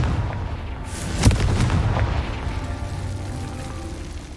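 A Confringo spell fired in Hogwarts Legacy, giving a loud blast with a sharp boom partway through, followed by a rumbling tail that fades slowly.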